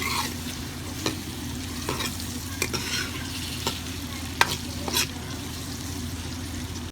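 Onions fry gently over a low flame for village-style Punjabi kadhi pakora, a soft steady sizzle broken by scattered crisp taps and scrapes of a spoon against the pan.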